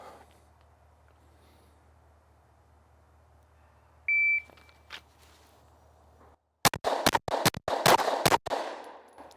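A shot timer sounds one short, sharp electronic beep on a pistol range at 5 yards, followed a couple of seconds later by a rapid string of five loud handgun shots with a brief echoing tail.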